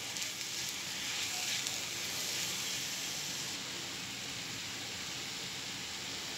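Spice masala roasting in a pan, a steady close hiss of sizzling that carries on evenly with no talk over it.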